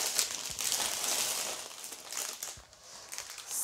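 Crisp crinkling and rustling of a plastic bag being handled up close, steady crackles with a few soft thumps.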